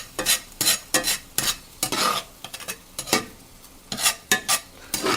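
Sausage being stirred together with melted bacon grease in a pan, a spoon scraping and clacking in quick repeated strokes over a light sizzle, close and fairly loud with no talking.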